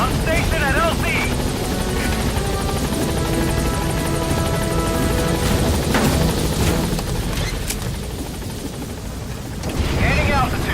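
The Pequod support helicopter in Metal Gear Solid V sets down at a landing zone, its rotor producing a loud, steady thumping roar throughout, with radio voices speaking over it.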